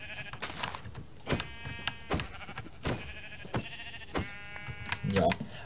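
Sheep bleating in the Minecraft survival video game, several short game bleats repeating at intervals alongside other game sounds while a person talks throughout.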